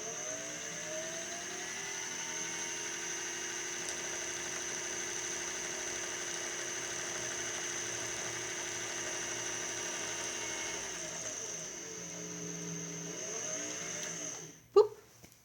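A sewing machine winds a bobbin with a steady, even motorized whir that runs for about fourteen seconds, then winds down and ends in a short clunk. No one speaks.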